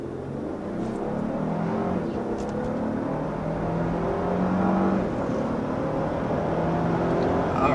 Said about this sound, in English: there's up to 60 miles an hour in this all-new Lexus LX600